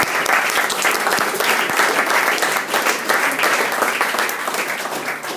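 Loud, dense applause from the crowd at a virtual reality community meetup, a sustained wash of many hands clapping close and steady for several seconds before easing slightly at the end.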